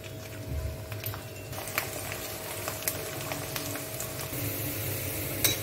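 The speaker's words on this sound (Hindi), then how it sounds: "बारीक कटा लहसुन, इनको अच्छे से थोड़ा ब्राउन होने देंगे।" Finely chopped garlic frying in a pan, a soft continuous sizzle with occasional light clinks and stirring scrapes, fairly faint and steady throughout.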